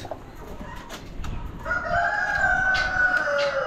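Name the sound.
barred rock roosters crowing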